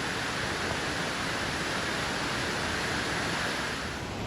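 Cascade d'Ars, a large waterfall in the French Pyrenees on a misty, foggy day, roars as a steady, dense, loud rush of falling water with no voices.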